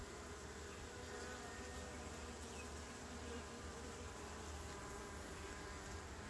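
Honey bees from a newly caught swarm buzz steadily and softly close by while their hive is opened for inspection, a continuous insect drone with no voices.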